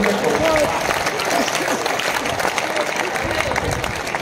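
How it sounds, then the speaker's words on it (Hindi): A crowd at a Hindi stand-up comedy show claps loudly on cue, a thick, sustained wash of applause that carries on evenly from start to finish. "एक बार जोरदार तालियां बजानी"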